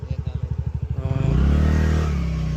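A scooter rides over a rough, broken city road. Its small engine putters in quick pulses, then revs up into a steady, louder drone close to the microphone.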